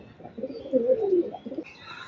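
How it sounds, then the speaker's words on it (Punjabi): A pigeon coos softly nearby, a short rolling call in a quiet setting. "ਆਪਾਂ ਫੜ ਲਿਆ ਕਬੂਤਰ ਅੱਜ ਆ ਬੈਠਾ"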